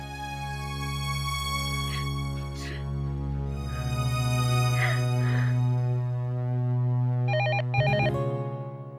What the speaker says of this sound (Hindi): उसके बीच में फोन बज गया